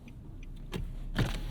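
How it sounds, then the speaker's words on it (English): A 2024 Nissan Versa's auto-down power window hums briefly inside the car, a short motor whir followed by a soft clunk as the glass stops, faint and close. "Let's use that auto down window."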